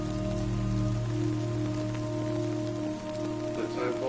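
Steady timefall rain in the game Death Stranding, a constant wash of rainfall hiss that holds at even loudness throughout over a low droning score, with no talking.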